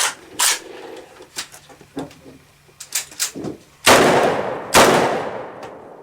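Two loud pistol gunshots from an AR or AK pistol fitted with a muzzle brake ring out near the end, each with a long echoing tail, following a stretch of faint clicks and handling noises.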